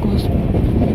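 Steady low rumble of a train running along the tracks, loud and continuous, with a voice talking faintly over it.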